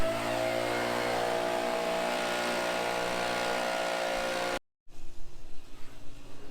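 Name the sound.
leaf blower blowing out a shop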